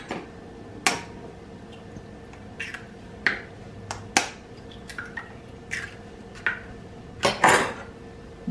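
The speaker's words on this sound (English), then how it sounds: "And then let's crack the eggs." Eggs are cracked into a bowl for brown sugar buns: a series of sharp, separate taps and clinks of shell against the bowl, close and distinct, with wet drips between them.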